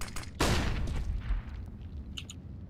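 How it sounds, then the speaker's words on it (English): A flashbang grenade going off in the video game CS:GO, one sharp loud bang followed by a short rumbling tail, with faint game sounds after it. "Throwing flashbang."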